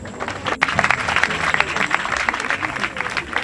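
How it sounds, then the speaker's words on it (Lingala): An audience claps at an event at the Académie des Beaux-Arts in Kinshasa, steady dense applause at moderate distance, with a voice speaking over it. "je vous prie d'applaudir très très fort"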